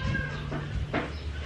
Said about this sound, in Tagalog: Ito itim na pusa na talaga.